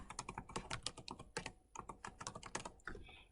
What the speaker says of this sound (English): Typing in a password.